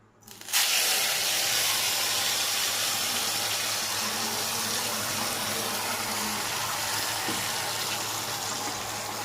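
Ground spice paste for paneer bharta drops into hot oil in a pan and bursts into a sudden loud hiss about half a second in, then settles into a steady, even sizzle that fades only slightly.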